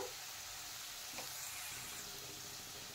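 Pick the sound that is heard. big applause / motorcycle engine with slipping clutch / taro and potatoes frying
taro and potatoes frying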